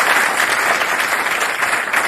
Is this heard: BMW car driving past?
no